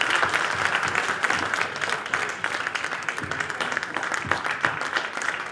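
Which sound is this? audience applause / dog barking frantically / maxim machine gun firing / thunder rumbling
audience applause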